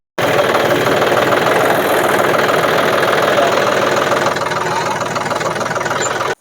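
A tractor engine runs steadily at a farm field where crops are being sprayed, a loud, continuous close-up idle with a rough knocking texture and no speech, cutting off abruptly near the end.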